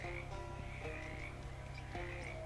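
Frogs croaking in the video game Shadows Over Loathing, a dense continuous chorus of ribbiting calls over a steady low drone, with no talking.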